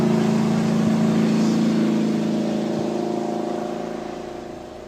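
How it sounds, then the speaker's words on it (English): A firefighting speedboat's engine drones steadily and loudly as the boat makes repeated passes over a fire, the roar holding even then easing slightly toward the end. "Our speedboat firefighter makes 4 passes to ensure the fire is out."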